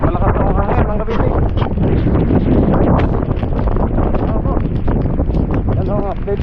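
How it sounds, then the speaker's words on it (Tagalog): Loud, constant roaring wind from Typhoon Tino in Surigao City, Philippines, buffets the microphone with heavy gusts in the evening, and a voice speaks in Filipino over it throughout. "Malakas na ang hangin mga kabisig."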